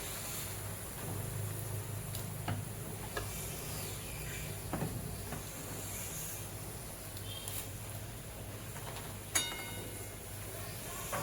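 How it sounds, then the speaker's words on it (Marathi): Spicy tikhat puris, a fried Indian bread, cook in hot oil with a steady, soft sizzling hiss and scattered faint crackles, heard alone without talk. "ह्या सर्व पुऱ्या तळून घेणार आहे"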